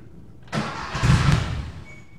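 Engine of a 1968 Porsche 912 with a 1600cc motor turning over and catching, a brief crank then a burst of firing that swells to a rough, near run and fades within two seconds.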